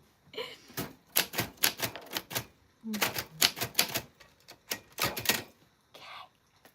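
Keys striking on a vintage manual typewriter, sharp clacks in quick bursts with short pauses, close and loud, with no talk.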